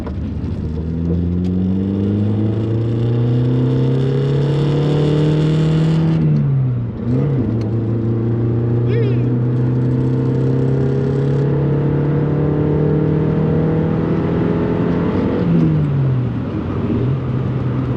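A Nissan SR20-engined car engine revs loudly and steadily under load on a dyno, pitch climbing and holding high with a brief dip partway, sustained and close.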